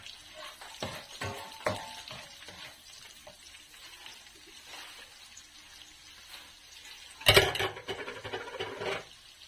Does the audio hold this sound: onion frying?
yes